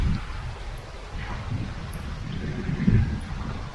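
Strong wind on an Albanian road trip buffets the microphone with a low, uneven rumble and gusty rushing, moderately loud and continuous.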